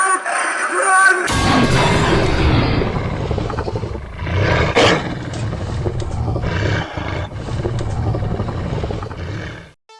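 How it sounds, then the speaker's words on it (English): Spooky Halloween animatronic prop audio: a sudden loud jump-scare blast followed by crashing, breaking bars and a long, rough, roaring snarl that rumbles on for several seconds before fading out. "there's like a jump scare sound, and you can also hear the bars breaking along with him snarling at you"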